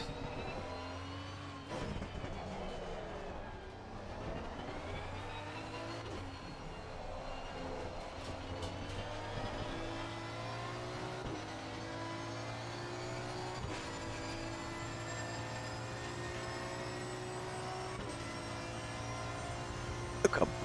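A Chevrolet Camaro GT4 race car in a racing video game at Paul Ricard, its engine droning steadily at high revs with rising and falling pitch through gear changes, fairly quiet and continuous, no talk.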